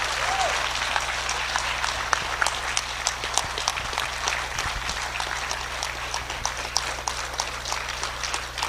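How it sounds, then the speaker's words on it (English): Sustained audience applause at a border-crisis public meeting in Kinney County, a dense, even clatter of many hands lasting throughout, with a low steady hum underneath and occasional voices. "Can I hear another round of applause for our speakers, please?"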